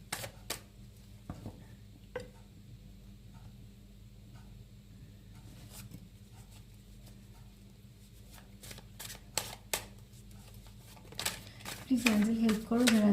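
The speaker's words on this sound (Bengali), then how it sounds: "এখান থেকে আমি 11টা কার্ড নেবো, সাফল করবো" Tarot cards being shuffled by hand, soft riffling and slapping bursts at irregular intervals over a quiet background, turning louder and busier toward the end where a voice also comes in.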